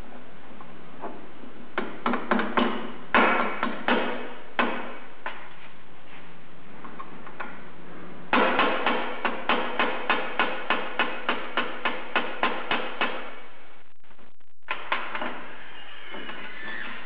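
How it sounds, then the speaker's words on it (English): A roll pin is driven into a Bridgeport mill's variable speed drive pulley with sharp metallic hammer blows, first in scattered groups, then a long, even run of about a dozen quick strikes, a pause, and a final few taps, close and without speech. "We're going to stick a roll pin in here. And we just pound it in."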